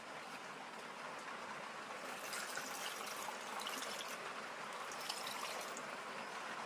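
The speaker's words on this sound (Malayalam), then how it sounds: "അപ്പോൾ നമ്മളിതിനകത്ത് വെള്ളം കൂടി ഒഴിക്കാൻ പോവുകയാണ് ഇനി" Water pours softly and steadily into a pressure cooker holding Kerala Thiruvathira puzhukku seasoned with salt, turmeric and chilli powder, a faint continuous trickling hiss with no voices.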